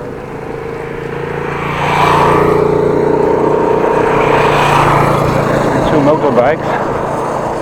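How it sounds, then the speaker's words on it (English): Motorbikes pass on a road in Groningen, their broad engine roar swelling close by and then holding steady under steady road and wind noise, with a voice speaking over it. "Motorbikes."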